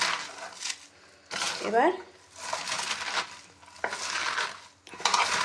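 Food being mashed with salt by hand in a perforated stone bowl, giving squelching, scraping strokes in irregular bursts, close up, with a brief spoken word.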